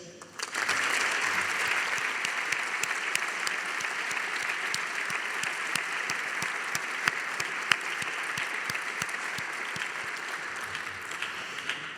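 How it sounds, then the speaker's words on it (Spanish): Audience at an inauguration ceremony applauds steadily for about twelve seconds, a dense even wash of clapping starting abruptly and holding level before fading slightly at the end, with no talk over it. "Y por eso les voy a pedir un aplauso para todos ellos."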